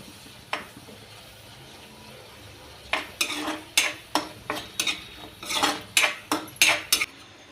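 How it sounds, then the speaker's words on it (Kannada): Ginger garlic paste fries in a pan for paneer masala while a metal spoon stirs and scrapes in quick repeated clanking strokes over a faint sizzle. "ಸ್ವಲ್ಪ ಚೆನ್ನಾಗಿ ಫ್ರೈ ಮಾಡ್ಕೋಬೇಕು."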